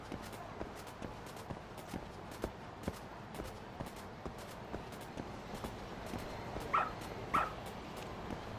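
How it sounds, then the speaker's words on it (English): A dog in the video game Lost Judgment pads along in steady, evenly spaced footsteps, then gives two short, sharp barks near the end, with no talk over it. "Bring the doggo."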